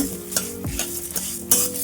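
Fresh coconut and chillies roast in a hot pan for bitter melon chutney powder, a close spatula stirring with scraping strokes and light sizzle, a sharp metallic scrape near the end.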